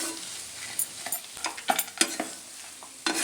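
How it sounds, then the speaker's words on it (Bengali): A spoon scrapes and stirs a shelled peanut and vegetable filling in a pan, with irregular clinks and scraping strokes over a faint background sizzle, close and moderately loud. "আবারও আমি খুব ভালো করে নেড়ে দেব।"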